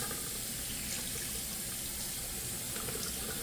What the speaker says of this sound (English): turn on your water, make sure it's warm enough, and then you're going to rinse your brush